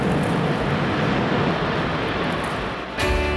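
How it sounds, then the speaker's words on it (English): A ULA rocket lifts off with a loud, continuous, broadband roar that fades slightly, then cuts to a different tone near the end. "And liftoff."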